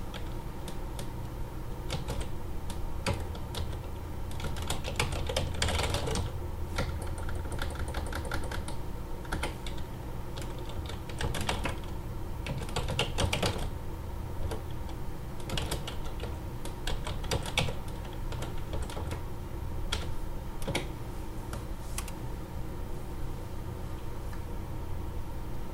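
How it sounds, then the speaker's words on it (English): Someone types an email address on a computer keyboard during an Outlook setup, producing soft, steady runs of clicking keystrokes with brief gaps, fairly quiet against a faint background hiss. "First thing we're going to do is type in the user's email address"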